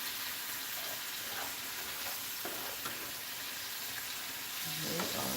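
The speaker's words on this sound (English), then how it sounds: "This is the fresh garlic, and this is the shrimp cooking." Shrimp and fresh garlic fry in a pan for keto shrimp scampi, a continuous close sizzling hiss with a few soft knocks and scrapes.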